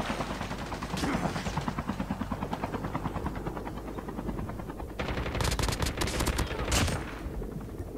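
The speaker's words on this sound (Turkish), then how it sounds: "Adam helikopter geldi bize işte çarptı." A helicopter drones loudly and steadily through a battle royale game match while bursts of rapid automatic gunfire crackle over it, growing denser and louder toward the end.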